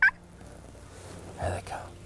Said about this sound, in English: another bird started gobbling from my right